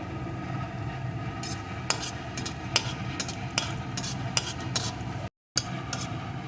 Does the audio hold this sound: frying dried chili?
yes